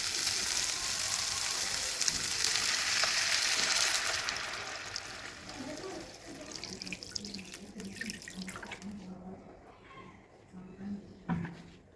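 About half a litre of water splashes and runs steadily into a pan of sautéed moringa leaves, a broad hiss at first that settles into quieter trickling with faint clinks near the end.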